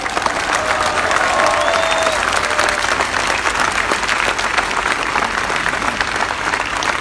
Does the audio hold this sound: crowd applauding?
yes